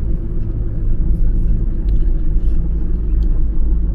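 A Mercedes Vito van drives along a rough country road, a loud steady engine and tyre rumble from inside the cab, with someone talking over it.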